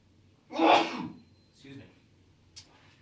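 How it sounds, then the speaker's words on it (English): A single close human sneeze bursts out sharply, followed by a soft inhaled breath and a faint sniff in an otherwise quiet room. "I have to sneeze first."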